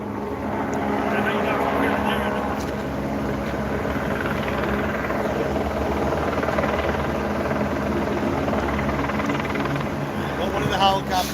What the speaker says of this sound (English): One of the helicopters is leaving.